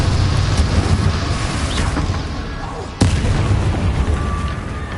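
Bombarda spell explosions in the Hogwarts Legacy video game, a dense, loud rumbling barrage of blasts and booms with one sharp impact near the middle, and no clear speech over it.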